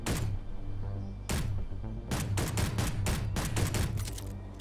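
S10 pistol firing in Space Engineers: one shot, then a second, then a rapid string of loud, sharp reports in quick succession, close and punchy over a low rumbling background.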